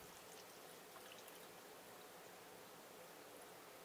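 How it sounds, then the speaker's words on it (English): Continuous soft rush of activated EM-1 effective microorganism solution pouring into a container, steady and unbroken, close and fairly quiet. "So we're gonna pour it in."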